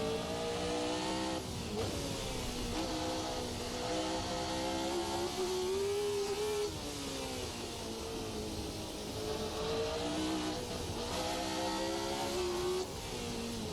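Formula 1970 V8 race car in a sim racing game, a loud, raspy engine note rising and falling steadily through gear changes as the car is driven hard, continuous and close with no talk.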